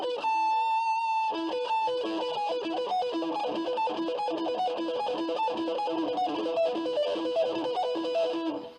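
A guitarist plays a 1996-style lick on a distorted electric guitar run through effects, with a sustained opening note followed by a rapid, steady stream of clean picked notes, loud and upfront with no talking.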